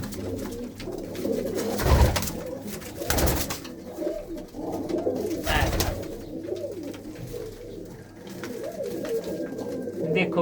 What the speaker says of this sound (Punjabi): ਕਬੂਤਰ ਉੜਦੇ ਨੇ